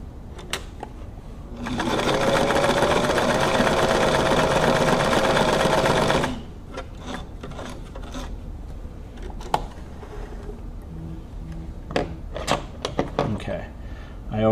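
A Brother VX757 sewing machine stitches during bobbin tension testing, a fast steady mechanical whir lasting several seconds before stopping, followed by scattered clicks and handling noises at close range.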